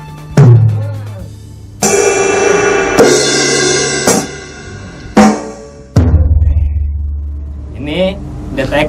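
Yamaha DTX 450 electronic drum kit hits play in a short sequence, with deep kick thumps and bright cymbal crashes ringing out, and a voice speaking near the end.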